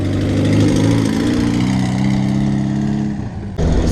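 A camper van engine revs loudly and steadily for several seconds, then eases off and cuts to a quieter drone as the van pulls away, with no talking.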